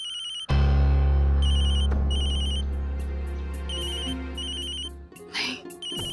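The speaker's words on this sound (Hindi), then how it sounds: "सुबह किसका फोन है?" An electronic phone ring trills in repeated bursts over a loud, steady low drone, cutting off near the end.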